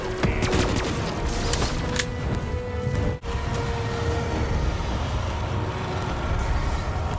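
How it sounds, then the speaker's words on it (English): Rapid bursts of gunfire fill a Black Ops 3 zombies match in the Gorod Krovi map, dense and continuous with a brief dropout midway, loud and up front with no speech. "So Nikolai should be shooting the dragon any second now"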